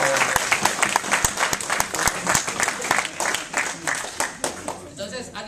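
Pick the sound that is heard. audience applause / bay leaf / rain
audience applause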